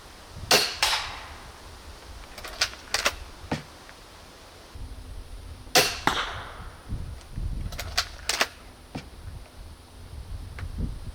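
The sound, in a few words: Interceptor crossbow bolts being shot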